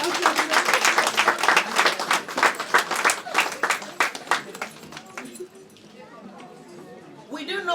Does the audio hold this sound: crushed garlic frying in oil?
no